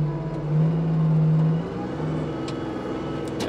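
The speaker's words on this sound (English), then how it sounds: "when you engage that blower, you're going to rev up your RPMs" A Kubota LX-series compact tractor engine hums steadily with a front snowblower engaged, its pitch rising briefly as the revs climb, then settling back to a lower drone.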